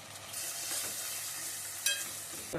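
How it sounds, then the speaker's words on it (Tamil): Shallots and garlic sauté with tomatoes in a pan for a shark fish curry, giving a steady close sizzle, with a brief stir or clink near the end and no talk. "சின்ன வெங்காயம் நறுக்கி வச்சுட்டு அதை சேர்த்து வெங்காயமும் பூண்டும் நல்லா வதங்கிடுச்சு"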